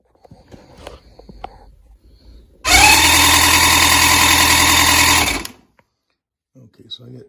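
A Volvo Penta gas boat engine with MEFI ignition cranks loudly for about three seconds in a steady whirring burst, then cuts off, with faint clicks and handling noises before and after.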